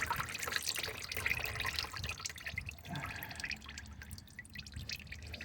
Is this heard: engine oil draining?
yes